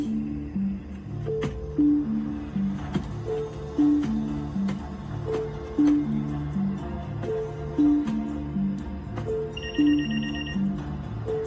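A telephone rings in a repeating electronic pattern, fairly close and steady, over a low background score with no talking.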